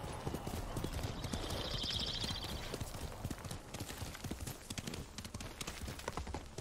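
Horse hooves clip-clop along a trail in Ghost of Tsushima, a brisk steady rhythm of close, crisp hoofbeats with a short whinny early on and a faint voice at times.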